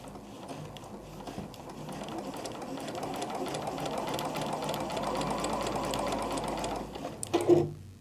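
A Juki DX sewing machine stitches fabric with a steady, smooth mechanical whir that builds gradually and runs continuously, ending with a couple of louder clunks as it stops.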